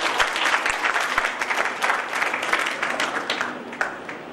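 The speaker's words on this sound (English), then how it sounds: "So please give them a huge round of applause." An audience at the BICON 2015 conference applauds a panel of professors, with dense, steady clapping filling the room for several seconds, a few sharper claps standing out near the start.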